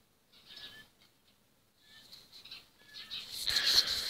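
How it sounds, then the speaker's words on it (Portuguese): A small bird being released outdoors, with soft, faint flutters and a few thin chirps, then a louder burst of wing flapping near the end. "só para mostrar soltando esse passarinho aqui"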